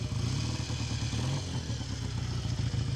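A cold, just-started motorcycle engine idles close to the exhaust, a steady rapid chuffing pulse with metallic clatter, loud and continuous throughout.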